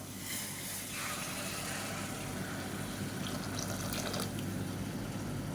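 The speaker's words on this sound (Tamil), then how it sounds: "இப்போ இதில் வந்து நம்ம இந்த சூடு பண்ண தண்ணியை சேர்த்துக்கலாம்." Heated water pours steadily into sautéed mutton in a pot while biryani is being prepared, a continuous close splashing rush lasting several seconds with no talking.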